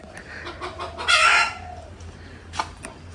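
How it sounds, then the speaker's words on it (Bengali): Chickens squawk and cluck loudly on a rural homestead, one bird letting out a sharp crow-like burst in the middle, with fainter clucks before and after. "মুরগিগুলো খুব চিল্লাচ্ছে।"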